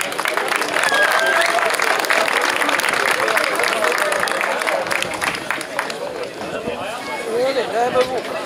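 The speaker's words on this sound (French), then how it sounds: "je vous demande d'applaudir Omarina Dinevitz." Crowd applause at a mountain bike race podium ceremony in Malmedy, a dense, loud wash of clapping and cheering mixed with talk and announcer speech.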